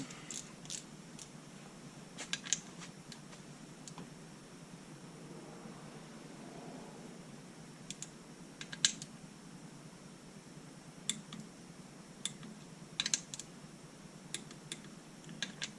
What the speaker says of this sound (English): It's not much, but that's why I'm using an inch-pound torque wrench.